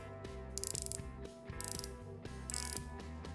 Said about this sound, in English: I love how the bezel sounds.